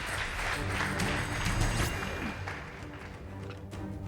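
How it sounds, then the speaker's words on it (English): A round of applause at a school debate contest between Limuru Girls School and Kapsabet Boys High, a moderate crowd clapping in a reverberant hall with some low rumbling and a few sharper hand claps, tapering slightly toward the end. "Please give them a round of applause."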